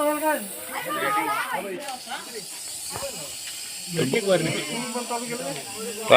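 A snake gives a sustained hiss like a pressure cooker whistle, close and steady, while a mongoose fight scene plays out and people talk over it throughout.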